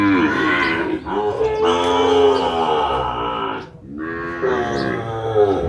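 Sahiwal cattle low loudly and close by in long drawn-out moos, a couple of deep calls with a short pause between them, with no talking over them.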